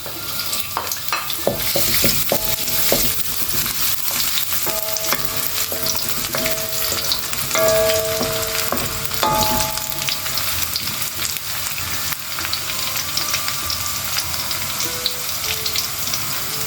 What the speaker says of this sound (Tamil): சட்டி காஞ்சிருச்சு பூண்டு மொழி போட்டுக்கிறேன்